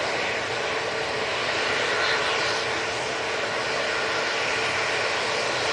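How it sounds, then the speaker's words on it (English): A KLM Embraer E175 jet from Amsterdam Schiphol passes near Manchester Airport by Stockport, a steady broad engine roar that holds level and continuous throughout, with no voices. "we have the KLM Embraer E175. Going from Amsterdam Schiphol"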